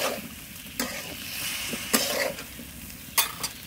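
Boiled jackfruit is stirred in a small wok, a soft sizzle running underneath while a spoon scrapes and knocks against the pan in a few separate, sharp strokes.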